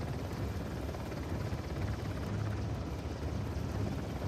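A helicopter in the Uncharted: The Lost Legacy video game gives a steady, continuous rotor rumble with a low throb, holding even and fairly close throughout.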